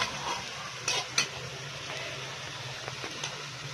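Vegetables frying in a pan for chicken macaroni, a soft steady sizzle with a few brief scraping stirs of a utensil against the pan, close and fairly quiet.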